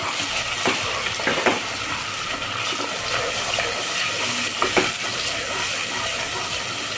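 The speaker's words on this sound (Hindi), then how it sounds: "अब हम इस टमाटर के पेस्ट को अच्छे से भूनेंगे" Tomato paste fries in a pan with green chillies for a black chickpea gravy, giving a steady broadband sizzle with a few brief scraping stir strokes, close and continuous, no voices.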